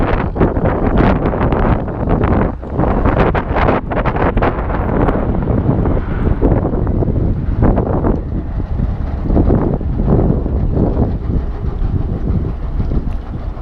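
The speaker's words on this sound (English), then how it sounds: "It's also very windy" Strong wind roars steadily against the microphone, a loud, continuous buffeting rumble with gusty surges throughout and no voices.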